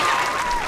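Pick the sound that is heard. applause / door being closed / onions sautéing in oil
applause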